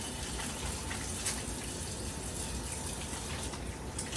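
Tap water runs steadily as hands are washed, a continuous close gush of water that fills the whole clip without any talk.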